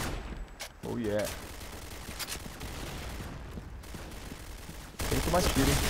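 Rapid gunfire bursts from the first-person shooter game Point Blank crackle through the match, mixed with game effects and someone talking over them, with the shooting growing louder and denser toward the end.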